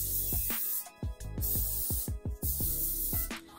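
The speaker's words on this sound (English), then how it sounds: "I'm going to give my hair a good spray with some heat protectant spray" Short bursts of Moroccan Oil heat protectant hair spray hiss out in quick succession, close by, separated by brief pauses and some handling noise.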